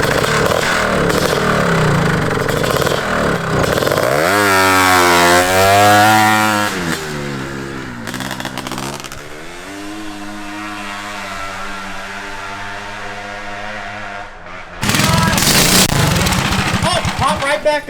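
A cheap 15HP engine bought from Temu and fitted to a go-kart revs and accelerates, its pitch rising and falling as it races, with people talking around it.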